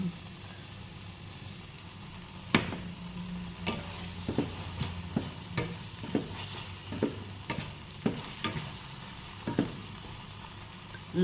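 Capsicum (bell pepper) frying in hot oil for a gravy, a steady low sizzle broken by a dozen or so sharp stirring clatters and pops at irregular intervals, close and fairly quiet, with no talking.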